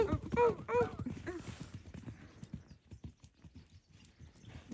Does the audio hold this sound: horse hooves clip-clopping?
yes